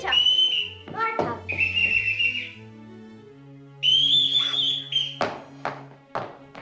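A series of distinct whistled calls, each a short melodic phrase with rising and falling tones, whistled one after another for the von Trapp children, separated by brief pauses and light taps.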